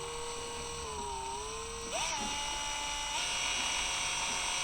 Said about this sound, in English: we're gonna take a little mix drill and just gently mix it